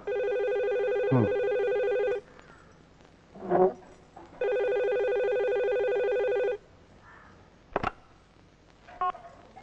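A telephone rings indoors in two long, steady electronic bursts of about two seconds each, separated by a pause, with a few faint incidental knocks and no talking.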